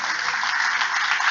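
A church congregation applauds strongly during a Spanish-language sermon, producing dense, continuous, even clapping that fills the room throughout the short stretch, with no voices rising above it.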